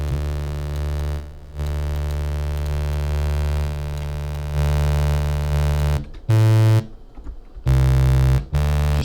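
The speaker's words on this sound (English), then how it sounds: "This is another free fast distortion." FL Studio stock fast distortion plugin processing a sustained synth-like tone, a loud buzzy harmonic drone that drops out in short gaps and returns with heavier, grittier bursts toward the end, no talk.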